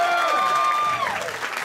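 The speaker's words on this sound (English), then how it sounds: "Y'all make some noise for the band" Audience at a jazz and supper club clapping and cheering for the live jazz band, a dense burst of applause mixed with crowd noise and a sustained tone carrying through, with some voices beneath.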